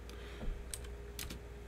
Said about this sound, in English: I don't know why my typing always gets so bad